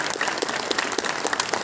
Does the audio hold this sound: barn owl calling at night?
no